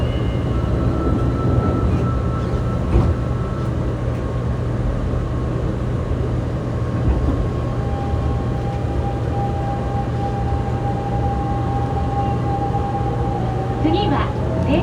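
Inside a Fukuoka City Subway 2000 series car, set 23, with a late-type Hitachi GTO-VVVF drive and an abnormal noise: a steady low running hum carries thin, sustained motor tones, with a faint rising whine near the end.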